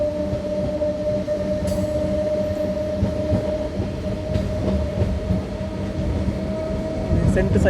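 A MEMU express runs between Machilipatnam and Gudivada in India, just after leaving Pedana, heard from inside the coach. The steady rumble carries a sustained electric whine and a few faint wheel clicks throughout.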